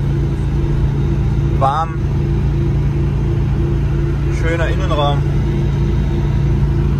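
Yanmar engine of a Microcar M.GO driving on the road, heard from inside the cabin as a steady, low, even hum that continues throughout while someone talks over it.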